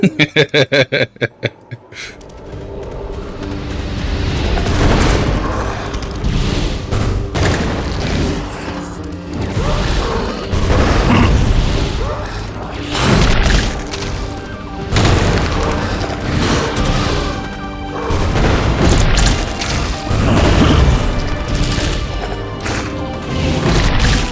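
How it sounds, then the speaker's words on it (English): Spell explosions from a video game, Seth and Bastet powers among them: a rapid burst of sharp blasts opens, then dense, loud booming crashes and impacts pile up continuously, with a few louder swells. "So we're just gonna go all explosions this time."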